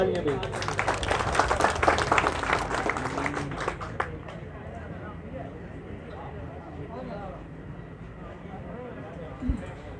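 Audience applause at a Gul Bano Welfare Foundation certificate ceremony honouring people who support the poor, dense clapping for about four seconds, then fading into murmuring and scattered noise.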